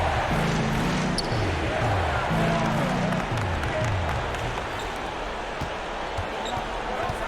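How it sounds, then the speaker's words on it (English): Crowd noise in a basketball arena during an ASB playoff game, a continuous roar of spectators under a commentator's voice, with repeated dribbling bounces of the ball. "Listen to this crowd. They are all into it."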